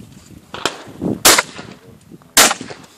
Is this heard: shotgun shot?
yes